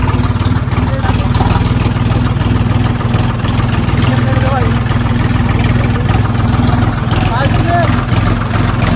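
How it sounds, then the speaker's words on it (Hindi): A tractor engine runs loud and close with a steady, throbbing low-pitched chug throughout, its rhythmic pulsing constant under intermittent talking. "चल पड़े हम लेके ट्रैक्टर को।"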